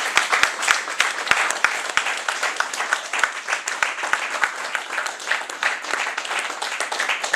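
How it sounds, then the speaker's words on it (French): Audience applause at a Pan-African summit, dense sustained clapping from a crowd with sharp individual claps standing out, steady and fairly close for the whole stretch. "je vous demande de les applaudir"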